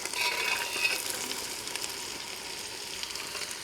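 Pavta (field bean) seeds sauté in a pan with ginger-garlic paste, giving a steady, close hiss of frying with faint stirring scrapes, sustained throughout with no talking.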